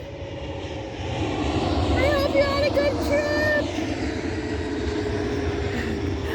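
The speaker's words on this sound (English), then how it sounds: "I don't know if you saw that plane." Airplane flying overhead as it comes in to land, a steady broad engine roar that swells and holds throughout, heard outdoors beneath a person talking.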